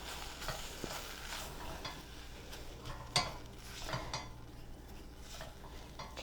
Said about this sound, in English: so let me give this a stir